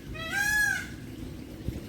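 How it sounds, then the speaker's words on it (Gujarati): A peacock gives a single short, shrill call near a village farm well, heard at moderate distance over a low outdoor background. "એ મોરલો બોલ્યો"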